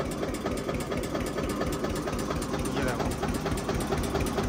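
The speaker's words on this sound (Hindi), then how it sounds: "अभी ट्रैक्टर जो है नॉर्मल आरपीएम पे है" A Mahindra Arjun NOVO tractor engine idles at normal rpm, a steady close diesel chug with fine rhythmic knocking throughout, and someone speaks over it.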